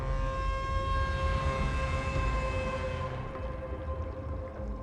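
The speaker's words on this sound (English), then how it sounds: "Some sort of distorted siren wail sounds and a prompt appears on screen." A distorted siren wails in the horror video game Death in the Water 2, a loud, droning tone that holds steady and then fades away, with no voices over it.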